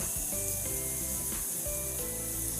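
Red chili powder frying in oil with spices for a bitter gourd curry, a steady close sizzle under a constant hiss with faint tonal background hum.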